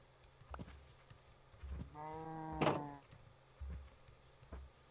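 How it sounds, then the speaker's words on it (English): Cows in the Minecraft video game give a drawn-out moo in the middle, set among soft thuds and clicks, quiet and alone without speech. "I'm just gonna leave those cows around here."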